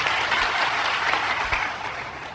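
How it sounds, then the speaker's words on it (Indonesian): A church congregation applauding during a sermon, a full, even roar of many hands clapping that starts loud and tapers slightly toward the end, with a few low thumps underneath. "Tepuk tangan."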